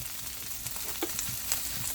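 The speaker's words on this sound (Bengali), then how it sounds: "বাটারটা গলে গেছে, তো এখন আমি দিয়ে দিচ্ছি পেঁয়াজ আর ক্যাপসিকাম।" Chopped onion and capsicum fry in melted butter in a pan for white sauce pasta, giving a steady close sizzle with a few light stirring clicks and no talking.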